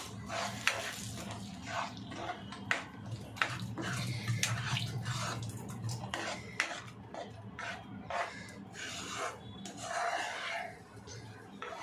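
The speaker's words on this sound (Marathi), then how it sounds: "आता आपण हलवून घेऊया" Egg bhurji is stirred in a pan, giving soft scraping and tapping of the spoon against the metal with a quiet sizzle underneath, faint and irregular, with occasional talk nearby.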